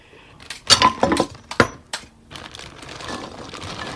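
Cranberries rattle and tumble inside a crinkly bag in a few quick bursts, then a faint rustle lingers.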